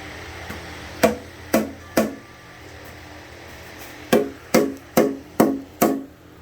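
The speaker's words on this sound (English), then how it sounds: "Give it a couple love taps." Hammer tapping on a stuck part of a vehicle being worked on, in sharp distinct metallic knocks: three early strikes, a pause, then a quicker run of five, close and fairly loud in a quiet space.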